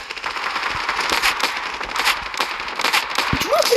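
Rapid gunfire in a video game, a dense run of sharp crackling shots at steady high loudness filling the whole stretch, with no talk over it.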